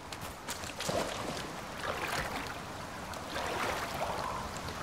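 Waterfalls in the survival video game Icarus give a soft, continuous rushing and trickling water noise, fairly faint and steady throughout with no talk over it.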